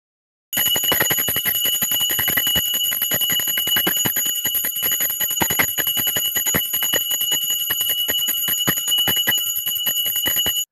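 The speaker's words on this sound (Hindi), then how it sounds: "मैंने आप लोगों को घंटी का आवाज़ सुनाया है, एक जो घंटी है ना बहुत ही बड़ी है" A very large prayer bell in a home shrine rings continuously, its bright, sustained metallic tones layered with rapid repeated strikes, loud and close throughout.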